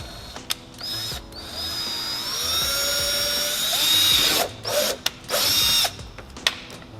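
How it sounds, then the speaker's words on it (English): A high-pitched power drill whines steadily for several seconds, rising in pitch, drilling into a Subaru WRX STI bumper, then stops and restarts in short bursts, with brief clicks between. "Now we just got to drill the other side of the bumper"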